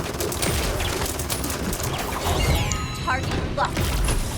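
Gunfire in the online shooter Paladins, a dense continuous barrage of rapid shots and mechanical weapon sounds layered over game effects, loud and steady throughout.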